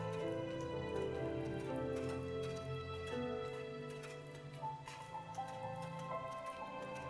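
Rain falling on snow in the video game The First Tree: a soft, steady patter of droplets over a layered tonal music bed, quiet and continuous with no voices.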